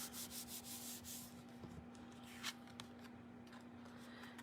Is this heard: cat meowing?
no